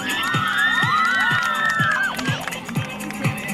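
A festival crowd at a colour festival cheers and whoops over a rhythmic thumping beat, with shrill rising and falling shouts that fade into a busier, fainter murmur.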